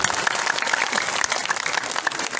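An evening gathering's audience claps in a brief, steady burst of moderate applause, many hands together without voices.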